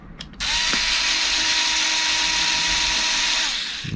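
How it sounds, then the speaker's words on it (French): A bolt being driven in during a tire replacement on a Kaabo Mantis GT electric scooter: a steady, loud mechanical whir with a ratcheting buzz, running continuously for several seconds before easing off, with no talking. "On commence à visser tranquillement."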